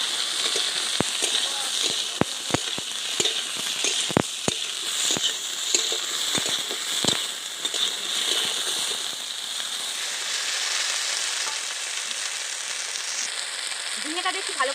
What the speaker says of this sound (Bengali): ঝিঙেটা দিয়ে একটু ভালো করে কষিয়ে নিয়েছি